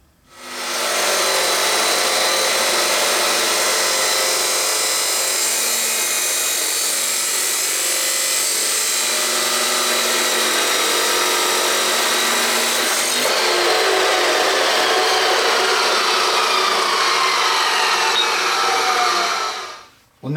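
A metal cutting saw runs steadily through steel flat bar and square tubing, a loud continuous whining grind lasting about twenty seconds with a slight shift in tone near the end as the cut finishes.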